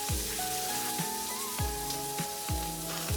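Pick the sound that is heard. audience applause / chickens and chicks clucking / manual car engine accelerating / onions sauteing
onions sauteing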